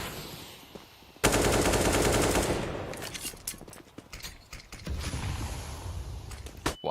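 Gunfire erupts in a Counter-Strike match on the Inferno map, starting with a loud dense burst of shots and then breaking into scattered sharp reports and clatter before another sustained stretch.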